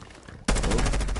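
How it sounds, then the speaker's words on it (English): Gunfire in a competitive shooter video game match, a wall bang shot fired through a wall: a sudden loud burst of rapid automatic shots after a quieter background, continuing in a fast steady rhythm. "Great wall bang there."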